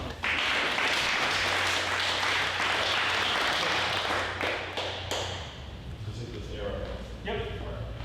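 Audience applause for a startup presenter at a new tech pitch event, a dense wash of clapping from a crowd that carries steadily for about five seconds, then thins and fades as a voice begins speaking.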